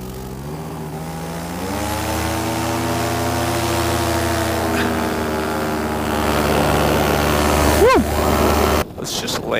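Light aircraft engine droning steadily in flight with low RPM, a loud continuous hum whose pitch slowly rises and shifts, ending in an abrupt break near the end.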